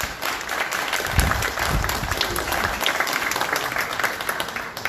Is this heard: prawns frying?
no